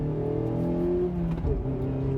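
A 2018 Mazda MX-5 Miata Club accelerates hard, its engine droning steadily with rising harmonic tones, heard from inside the car as a continuous, fairly loud hum.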